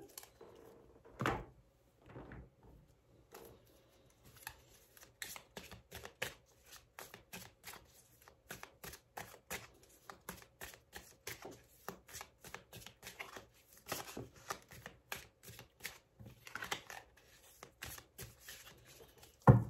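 Tarot cards are shuffled by hand for a reading: a long run of quiet, rapid riffles, taps and slides, recorded close with no talking.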